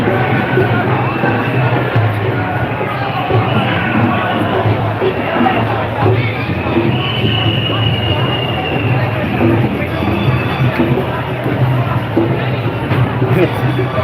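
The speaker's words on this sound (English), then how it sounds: "It's not a bad crowd." A large crowd at a Melbourne freedom rally fills the scene with dense, continuous murmur and chatter, broad and close, with indistinct voices mixing throughout.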